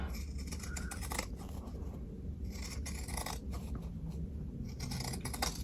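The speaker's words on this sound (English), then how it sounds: "Just using these scissors." Scissors snip steadily through fabric in repeated crisp cuts, close up, with a low hum underneath and no talking.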